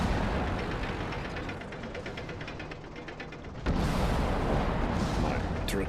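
Tank cannon fire and battle noise in the video game World of Tanks Classic, a dense booming clatter throughout with a sharp louder impact near the end, under faint talk.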